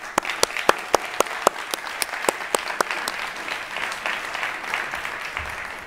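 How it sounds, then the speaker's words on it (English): Audience applause at the Arena Stage of the South Summit 2022 conference, a steady wash of clapping with a few sharp, close individual claps standing out at the start, then tapering into a softer, even patter. "Please, a round of applause for all of those that made this a reality for us."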